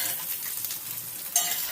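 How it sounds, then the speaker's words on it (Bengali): Soybean chunks fry in hot oil over high heat while being stirred in a pan. A steady, close sizzle runs throughout, with scraping stirs and a brief louder clatter near the end. No one speaks. "হাই হিটে এই সয়াবিনগুলো 5 মিনিট ধরে ভেজে নিতে হবে।"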